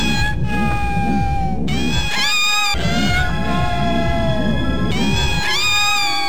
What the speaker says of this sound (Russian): пиксами, которые в этой игре звучат как котята